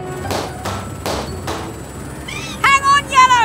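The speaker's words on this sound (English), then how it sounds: "we'll pop one balloon at a time." Four sharp, evenly spaced pops ring out one at a time in a cartoon as balloons burst, followed by whistling, sliding cartoon tones.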